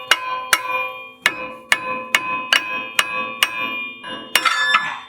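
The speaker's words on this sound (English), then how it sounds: "I'm just kind of hitting it back and forth, trying to loosen it up" Sharp metallic hammer strikes on a rear brake part of a 2016 Ford Transit-150 ring out one after another, about a dozen blows at an uneven pace, loud and close with a ringing metal tail.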